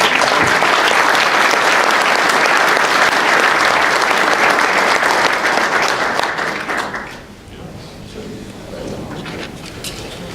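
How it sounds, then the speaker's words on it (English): A large audience breaks into sustained, loud applause for a robotics team, Team Storm, at a spring conference, dense clapping that fades after several seconds into quieter scattered claps. "So we can get one more round of applause."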